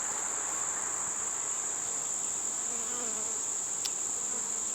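Honey bees from a new swarm buzz steadily around hive frames of freshly drawn comb filled with nectar, a dense, close, continuous droning hum with no talking.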